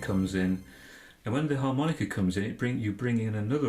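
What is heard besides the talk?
No everyday noises stand out.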